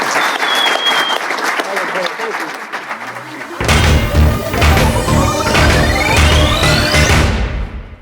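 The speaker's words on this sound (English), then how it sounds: "A huge round of applause for our panelists." Audience applause for convention panelists at New York Comic Con, a brief burst of clapping followed by a louder, crashing musical swell that carries to the end.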